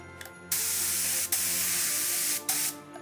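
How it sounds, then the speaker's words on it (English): Yellow-tinted cocoa butter sprayed onto a Christmas Noel chocolate mold: two loud, steady hissing bursts from an airbrush-type sprayer, each about a second long, separated by a brief pause. "So this one I'm gonna spray on the mold to give the yellow and orange effect on our Noel."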